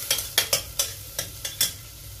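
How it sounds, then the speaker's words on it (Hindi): Garlic and ginger paste frying in a pan for a bitter gourd and chana dal dish: about seven sharp, evenly spaced stirring scrapes sit over a low, steady sizzle, close and fairly quiet, with no voices. "इसको जब तक भूनेंगे जब तक इसकी स्मेल ना चली जाए लहसुन अदरक की, 5 मिनट तक इसको भूनेंगे।"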